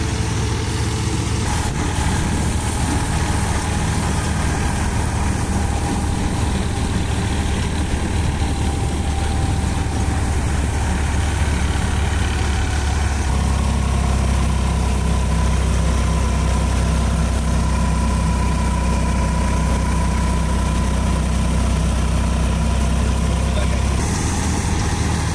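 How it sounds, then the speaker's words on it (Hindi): Massey 9500 tractor pulling a reaper through a wheat field in low gear, a constant loud low engine drone running the whole time with a slight shift in tone partway through. "बहुत अच्छी तरह से सफाई के साथ ट्रैक्टर चल रहा है"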